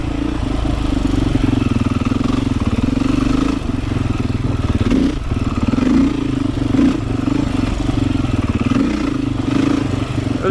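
A Beta 500 dirt bike rides a wooded trail on the Holton Motorcycle Trail in Michigan. Its engine drones loud and close with a steady thumping rhythm, small throttle surges and some clattering from the bike over rough ground.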